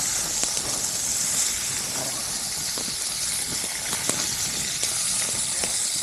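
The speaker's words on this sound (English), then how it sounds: "Got us a grease fire." Grease fire in overheated oil over an outdoor winter campfire, a steady close hiss and sizzle with scattered small pops and crackles throughout.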